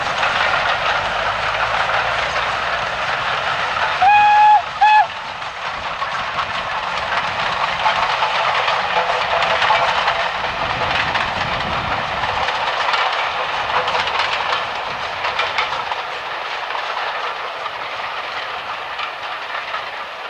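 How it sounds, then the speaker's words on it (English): Double-headed steam train at a spring steam gala: Southern Railway U-Class No. 31806 piloting British Railways Class 9F No. 92212 past a lineside lane, a loud sustained roar and hiss of the passing engines with rail clatter and a brief whistle early on. "Southern Railway's U-Class 460 No. 31806 pilots British Railways Class 9F210 No. 92212 past Northside Lane,"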